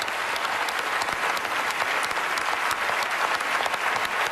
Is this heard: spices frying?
no